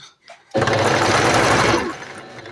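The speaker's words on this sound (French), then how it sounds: "je suis en train de coudre le dos" A sewing machine stitches the back of a dress in a single close, loud burst of rapid whirring that starts abruptly and runs for about a second and a half before easing off.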